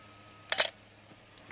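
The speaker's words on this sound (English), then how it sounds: "Let me give you a nice short shutter." A film SLR camera's shutter fires at a short exposure speed, producing a crisp, close mechanical click in near silence, followed a moment later by the start of another click.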